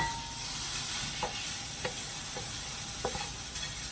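Sausages fry in a pan with a close, even sizzle, and a few soft clicks and stirring knocks rise above the hiss.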